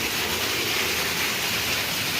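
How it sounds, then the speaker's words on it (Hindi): Heavy rain pours down in a dense, steady hiss on a Monday morning outside a home, filling every moment with no voices heard. "ओहो बहुत तेज़ बारिश हो रही है।"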